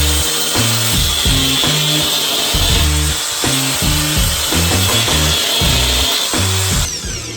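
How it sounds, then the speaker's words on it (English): A power grinder grinds down a weld on a metal dog gate in a workshop. It makes a loud, continuous abrasive whine close by, with shifting rough tones and no speech. "I'm going to go ahead and grind this down"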